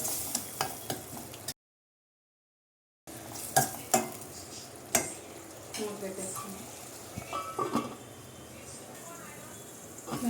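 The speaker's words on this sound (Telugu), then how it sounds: "కొంచెం నూనె అంతా తేలే వరకు దీన్ని ఫ్రై అవనిద్దాం." Amaranth greens frying in oil in a pan, a continuous sizzle broken by sharp spatula scrapes and taps against the pan, with a brief silent gap and faint background voices.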